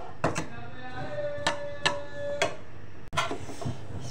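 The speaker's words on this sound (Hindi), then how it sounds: "बस आप ये देखिए ना मैं कितना आहिस्ता चला रही हूँ" A spoon slowly stirring besan as it roasts in a pan for besan barfi, giving sharp scraping clicks against the metal at an unhurried, uneven pace, close and clear with no talk.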